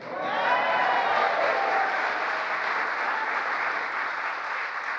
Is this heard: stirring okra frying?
no